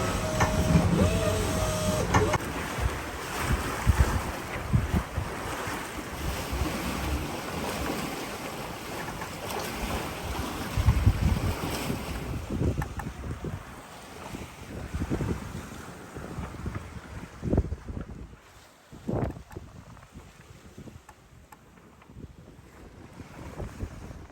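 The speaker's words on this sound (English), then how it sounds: "the wind keeps veering in both strength and direction as southerly winds always do" A catamaran under sail in a shifting southerly wind near Sail Rock and the Hen and Chicken Islands: steady wind rush and buffeting on the mic over water and hull noise, easing and gusting unevenly over about twenty-four seconds.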